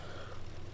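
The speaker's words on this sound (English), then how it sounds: "I'm coughing on my own spit" A single short, loud cough bursts out at the very end after a stretch of quiet, from a person choking on their own spit.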